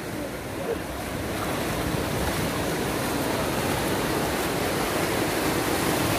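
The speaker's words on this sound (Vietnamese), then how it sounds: "Sóng cao." High sea waves surge in a steady, continuous roar during a youth sailing race, with heavy wind buffeting the microphone throughout and no voices.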